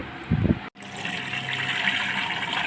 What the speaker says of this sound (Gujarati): પાણીપુરીનું પાણી કાઢી રહ્યા છે ભાઈ.